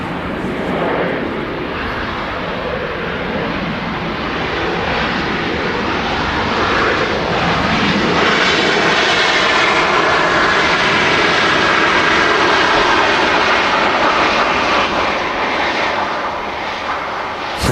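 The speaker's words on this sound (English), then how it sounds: "Oh, look at that Ryanair just greasing it down there." Ryanair airliner landing at Manchester Airport, a loud, steady roar of jet engines that swells and holds at close range throughout, with no talk over it.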